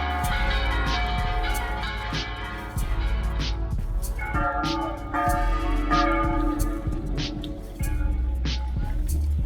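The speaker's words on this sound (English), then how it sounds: "Every 15 minutes, they were ringing the bells and ringing it a lot." Church bells peal continuously in a dense, overlapping clangor, loud and resonant, with faint background voices mixed underneath, at Lake Chapala, Mexico.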